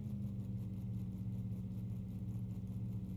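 Close, steady rumble of a car engine running at a constant idle, a deep continuous hum with a faint regular pulsing throb and no talking over it.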